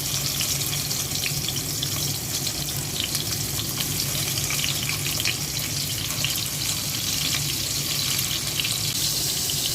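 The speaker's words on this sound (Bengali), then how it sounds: "এই মাছগুলো দিয়ে দিচ্ছি, ভেজে নেব মাছগুলো।" Aair fish frying in a pan with tomato, a steady close sizzle and crackle of hot oil filling the whole stretch, with faint stirring underneath and no voices.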